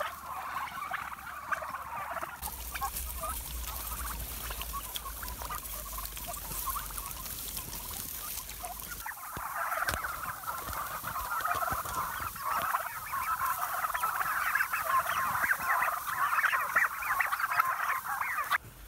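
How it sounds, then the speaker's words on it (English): Turkeys are walked around a no-dig market garden, giving off a dense, continuous chorus of chattering and gobbling calls at close range that grows busier toward the end. "Just taking my turkeys for a walk."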